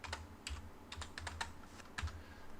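Keys tapped on a computer keyboard while entering AutoCAD commands: a short run of quiet, close clicks in an uneven rhythm, alone with no voices.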